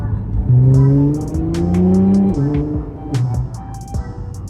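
A Nissan GT-R accelerates from inside the cabin, its engine note rising in loud, stepped sweeps as it pulls hard through the gears, with brief shift dips and road noise underneath.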